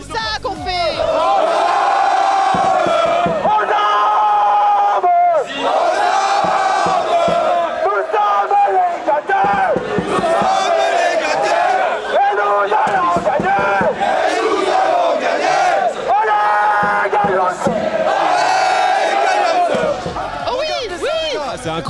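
Esports supporters at LFL Days cheer and chant loudly and continuously as a dense, close crowd, with whoops and shouts rising and falling in waves.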